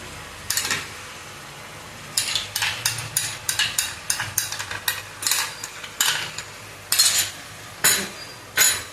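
A spoon mixing yogurt into chicken biryani in a pot, with a steady series of close metallic clinks and scrapes against the pot in an uneven rhythm, no speech.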